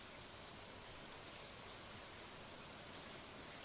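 Steady rain falls in the farming video game Stardew Valley, a soft, even hiss of raindrops that stays constant and fairly quiet throughout, with no voices.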